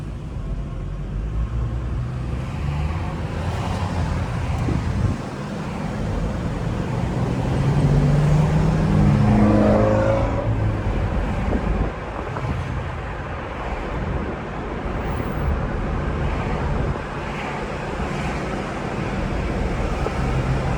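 Chrysler 300 heard from inside as it drives through traffic, a steady loud engine and road rumble with wind noise and a rising tone from the car midway, no talk.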